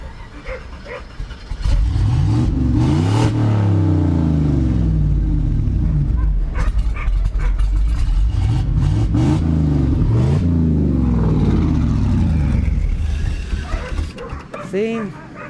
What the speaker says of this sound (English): I still gotta mess with that idle a little bit.